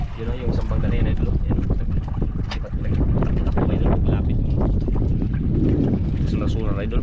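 A boat passes out on the sea, its steady engine and water rush blending with heavy wind buffeting the microphone, loud and continuous while people speak over it.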